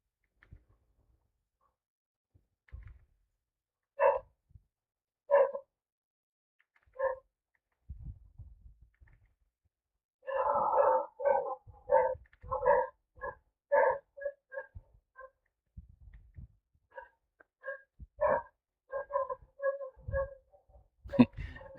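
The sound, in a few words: dog barking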